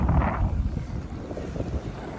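Strong wind buffeting the microphone on a beach at Maafushi island in the Maldives, low rumbling gusts strongest at the start, then easing into a steady blustery roar with faint surf beneath.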